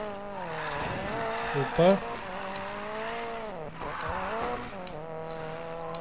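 A car drifting in the racing game Need for Speed Payback, with a steady engine drone and a brief tire squeal near the middle, all heard under continuous talking.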